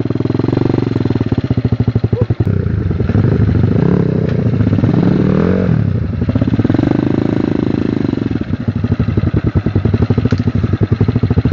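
A motorcycle engine runs loud and close, chugging and rattling with a rough, uneven idle and brief surges, continuous for the whole stretch with no clear talk.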